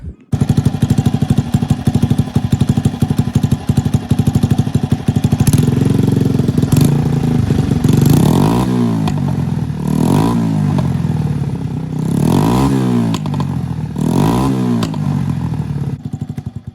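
A 1999 Honda C90 with a big bore straight-through exhaust runs loud and close, a rapid raspy idle that climbs into several sharp revving bursts, each rising and falling, with clattering mechanical noise throughout.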